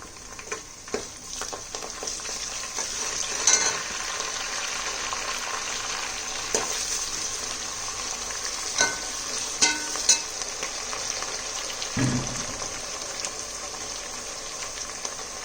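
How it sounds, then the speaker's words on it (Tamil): Green chillies, coriander and mint fry in ghee for a Tamil Nadu style mutton biryani, giving a soft, continuous sizzle with occasional stirring scrapes and small bubbling bursts, quiet and close. "ஒரு 5 பச்சை மிளகா கீரி வச்சது போடுறோம். தேவையான அளவு மல்லி புதினா,"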